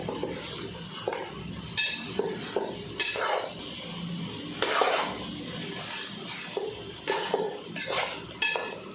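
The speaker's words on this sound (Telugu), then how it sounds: "అల్లం పచ్చివాసన పోయే వరకు ఒక రెండు నిమిషాలు బాగా ఫ్రై చేసుకోవాలి" Ginger and onion paste fries in a pan for a goat head curry, with a spoon scraping and clinking against the pot in irregular stirs over a soft sizzle, close by and without speech.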